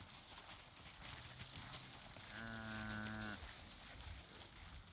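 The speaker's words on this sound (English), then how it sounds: "Lots of moo cows." Cattle on a farm in Australia low in a long, steady moo lasting about a second, clear over constant outdoor background noise, with quieter lowing sounds before it.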